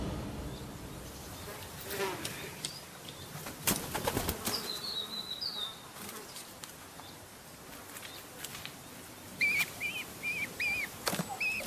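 A pigeon's wings flap in quick, dry bursts as it returns to a nest of hobby chicks, while faint high chirps of birds come and go over a soft outdoor hiss.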